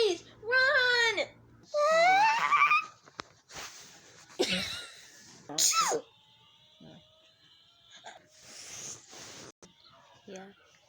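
A cartoon wolf girl's exaggerated super sneeze: one sharp, loud burst in the middle, set among high wailing and whimpering vocal sounds and other brief noises. A voice performs the sneeze.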